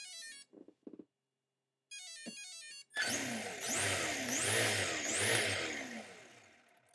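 A radio-controlled model car's electric motor spins up after a few short electronic beeps, then whines loudly, rising and falling in repeated surges as it is throttled.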